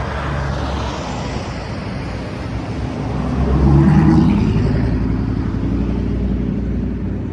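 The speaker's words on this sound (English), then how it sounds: "I'm going to let this traffic pass" Road traffic rolls past in a steady rumble, with one vehicle swelling louder midway and then easing off into the continuing roadway noise. No one speaks.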